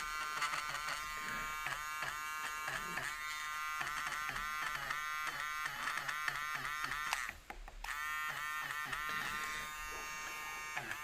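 A small electric eraser buzzes continuously while lifting airbrushed paint from a painted skull, a steady close whine that holds throughout with only a brief dip near the end.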